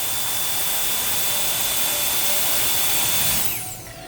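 ABBS Turbo Jet electric blower switched on with adjustable power, a loud high-pitched turbine whine and rushing air, then winding down toward the end of the brief burst.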